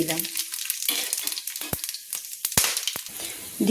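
Whole cinnamon, green cardamom, cloves, black peppercorns and cumin seeds hit hot oil for a Bengali doi chicken tempering, giving a steady close crackling sizzle broken by a few sharp pops and clinks of spices and utensil.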